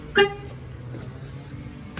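A 2020 Peterbilt truck's aftermarket alarm gives one short, loud chirp as it is armed by remote, near and sharp, followed by quiet idle background and a faint click at the end, with no talk.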